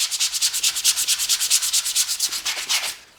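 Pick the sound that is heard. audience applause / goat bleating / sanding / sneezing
sanding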